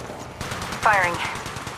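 Rapid automatic gunfire in the mobile shooter Apex Legends Mobile, a steady run of quick repeated shots through the whole stretch, with a brief voice-like call rising over it midway.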